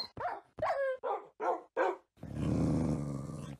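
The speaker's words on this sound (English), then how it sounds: "Oh, there's like dogs around you? I'm watching my aunt's dogs." Several of the aunt's dogs bark in a quick string of five sharp, close barks, followed by a sustained low growling and whining rumble from nearby.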